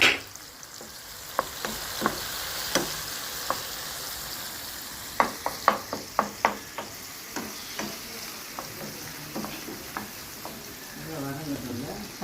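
Biryani masala for a rich nut-laden biryani sizzles and fries in a pan while a spoon stirs it, giving a run of sharp scraping clacks against the pan over steady frying hiss, with a few brief voice sounds.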